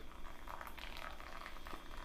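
Hot water at 200 degrees Fahrenheit is poured onto ground coffee in a six-cup Chemex to bloom it, giving a soft, steady bubbling patter throughout at low volume.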